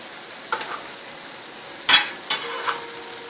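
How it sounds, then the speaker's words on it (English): Meat sizzling in a thin, flimsy frying pan, a steady crackle with a few sharp spits and clatters as it is pressed flat, close and moderately loud with no talking. "mass of the meat and I put it in the pan. I let it cook once I flatten it."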